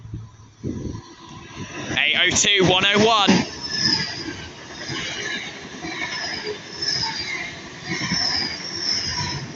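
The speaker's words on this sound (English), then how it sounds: "Fast train passing through" A fast train runs through Didcot Parkway station, a steady loud rumble and rush of wheels on rail with faint squealing that carries on for several seconds after someone briefly speaks.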